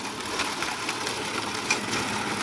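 Milwaukee battery-powered beach cart pulling away in medium gear: a steady mid-pitched motor whir with faint rhythmic knocking, continuous and fairly close, no talking.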